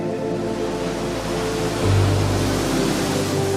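Ocean waves wash up on a sandy beach in a steady, broad, hissing surf, with a continuous rush that swells slightly partway through and no voices.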